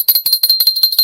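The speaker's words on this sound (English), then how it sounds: "Are you hearing the little bell?" A small handmade bell at a jewelry auction rings in a rapid series of about a dozen bright, clear tinkling strikes, close and loud, with no talking.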